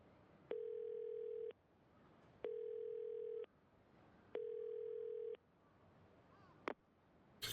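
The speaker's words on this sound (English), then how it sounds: "I found a payphone." A payphone in Yakuza 0 plays three long, steady dial-tone beeps with short gaps between them, clear and close, then a brief click at the end.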